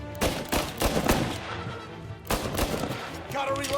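Gunfire in Mafia Definitive Edition, a run of sharp, loud shots in bursts with a lull in the middle, rising again near the end against a busy game backdrop.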